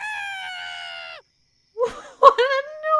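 A character's scream in a video game, a long strained high-pitched wail cut off abruptly, followed by a short pause and then several gasping vocal cries, loud and close.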